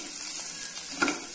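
Cubed onion and capsicum sautéing in butter in a pan, a soft steady sizzle with faint crackles and a brief stir, no voices.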